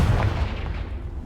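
A Confringo blast spell explodes in the video game Hogwarts Legacy, a loud, booming burst up front that rolls into a low, rumbling decay lasting about a second.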